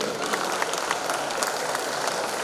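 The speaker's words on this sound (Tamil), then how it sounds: "இந்த மேடையை அமைத்து கொடுத்த பெற்றோருக்கு ஒரு பலத்த கரகோஷம் கொடுக்கும்" Sustained audience applause at a Tamil salangai pooja classical dance recital, dense and steady throughout with many hands clapping together from a large crowd.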